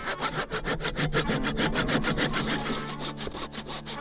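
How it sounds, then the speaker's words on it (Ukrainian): A cheap hand saw cuts through tree branches for firewood in a steady series of rasping back-and-forth strokes, close and continuous, with a faint hum beneath. "Спробуємо напиляти кілька гілок, так ніби готуємо їх на дрова"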